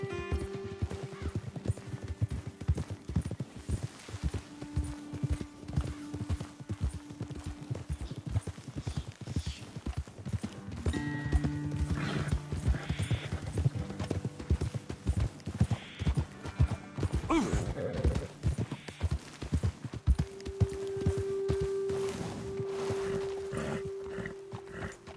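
Horse hooves clip-clop steadily on hard ground throughout in Red Dead Redemption 2, several horses walking in an even rhythm at moderate distance, with a faint whinny now and then.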